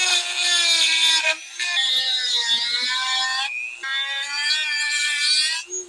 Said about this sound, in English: Okay, I got my Dremel. Let's see if I can carve some of that metal out.